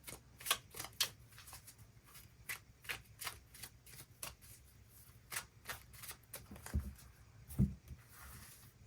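Tarot cards shuffled and drawn by hand, a quick run of crisp riffling flicks and slaps followed by a couple of duller taps as cards are laid down, close and fairly quiet.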